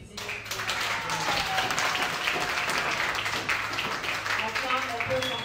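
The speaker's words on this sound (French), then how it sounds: "Chères femmes, s'il vous plaît, applaudissez" Sustained applause from a women's audience at a conference on investing in women, dense clapping filling the room for several seconds, with a voice carrying over it.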